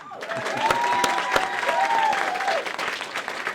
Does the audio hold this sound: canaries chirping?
no